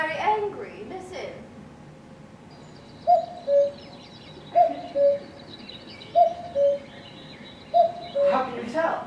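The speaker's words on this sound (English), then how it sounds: "That cuckoo was very angry." A cuckoo gives four evenly spaced two-note calls, each a clear falling 'cu-coo', mid-distance and fairly soft, with a brief voice and some rustling before the first call.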